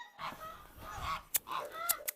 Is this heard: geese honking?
yes